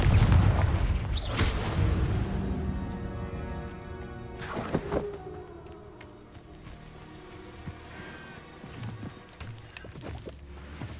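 Confringo blasting spells go off in the Hogwarts Legacy video game, heavy booming explosions at about one and five seconds, followed by rumbling debris, scattered crackles and game sound.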